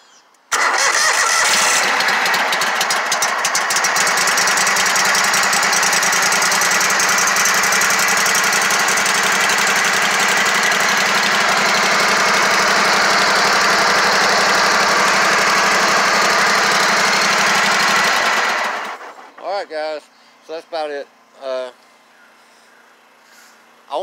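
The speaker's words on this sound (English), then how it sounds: "Runs a lot better now I put the new carburetor on there." A small engine fitted with a new carburetor runs at a loud, steady idle close by for about eighteen seconds, then cuts off, and someone talks afterward.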